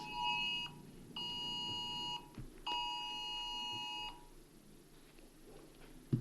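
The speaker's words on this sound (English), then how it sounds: "It's got a public safety alarm." A public safety alarm sounds three times in a county fiscal court meeting room, each a sustained electronic chime-like tone lasting about a second, separated by short gaps, loud and close, then the room returns to low background noise.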